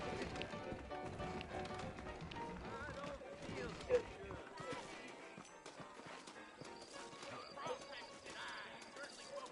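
Hooves clip-clop in a steady gait with a horse whinnying, mixed with voices talking and background game noise in Red Dead Redemption (2010).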